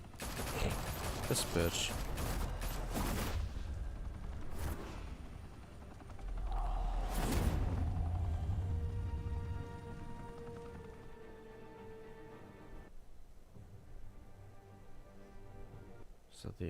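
Gunfire in the video game Batman: The Telltale Series, dense bursts of rapid shots and heavy blasts crowding the first half, then fading into mechanical rumble and tones, with a voice speaking briefly.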